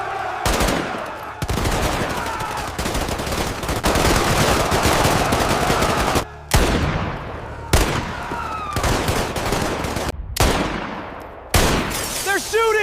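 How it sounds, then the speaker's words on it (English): Dense gunfire from a dramatized street gun battle in Tulsa, with rapid automatic bursts and scattered shots that go on almost without a break, loud and close, cut by a few brief pauses, with shouting voices mixed in. "a chaotic gun battle spilled out into the streets of Tulsa"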